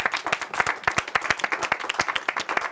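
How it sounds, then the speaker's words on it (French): A short burst of lively applause from a group, many hands clapping quickly and steadily. "Applaudissez-vous"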